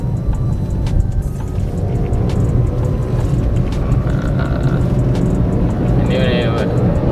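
A Toyota Agya comes down off a flyover and picks up speed, its engine a steady low hum under tire and road rumble from inside the cabin, with people talking over it.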